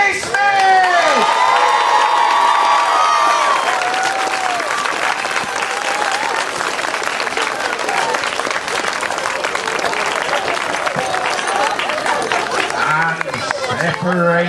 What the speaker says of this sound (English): big round of applause for Libby Smith!